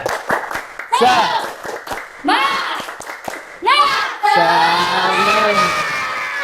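A school class claps hands together in a rhythmic cheer during an ice-breaker, with bursts of clapping mixed with loud children's shouting and voices.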